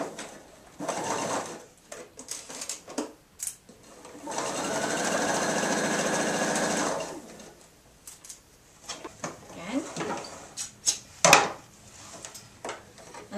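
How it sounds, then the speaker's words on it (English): A sewing machine stitches along the top edge and long sides of a fabric apron, running in short bursts and then one sustained whir, close and fairly loud, with small clicks and handling sounds between runs. "Now we need to take this back to the sewing machine and stitch along our top edge and then down along two long edges and across our hem."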